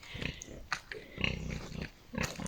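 A large uncastrated native boar kept on a mountain farm grunts and snorts in short, rough bursts, close and irregular, with scattered livestock noise around it.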